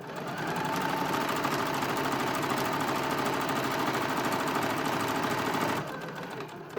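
A sewing machine runs a steady, continuous buzzing stitch along a bunny ear seam, sewing forward and then back for a few stitches, close and alone before it stops near the end.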